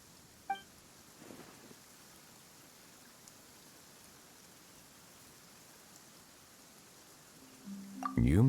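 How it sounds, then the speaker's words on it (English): Soft, steady rainfall in Genshin Impact hisses throughout at low volume, with a few faint clicks and a brief electronic tone near the end. "Why is it raining all of a sudden?"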